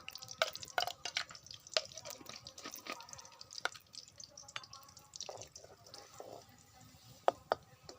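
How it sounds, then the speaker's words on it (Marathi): Hot oil crackles and pops in a kadai heating over an outdoor fire by a river before chicken goes in, scattered sharp spits and ticks at irregular intervals, close and fairly faint. "आता चांगली आपली कढई तापली तेलाचा आवाज यायला लागला आहे"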